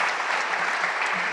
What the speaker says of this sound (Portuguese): Salve de palmas para o nosso amigo aqui